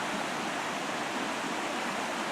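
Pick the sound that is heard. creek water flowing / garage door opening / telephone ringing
creek water flowing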